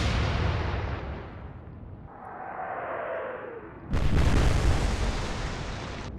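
Naval guns boom in the World War II game Atlantic Fleet with Kriegsmarine ships: a heavy rumbling blast fades into a whistling incoming shell, then a second loud, sharp explosion bursts close by and rumbles on.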